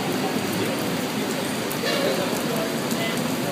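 Steady rain pours down, a dense constant hiss with drops pattering on surfaces close by, no letup throughout.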